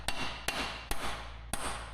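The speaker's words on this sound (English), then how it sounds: "Right, so I've tried with the hammer and" Four sharp metal-on-metal hammer blows on a punch, spaced roughly half a second apart, driving at a tight, stuck drive shaft on a Volkswagen Polo during a timing chain job; loud and close with short ringing decay.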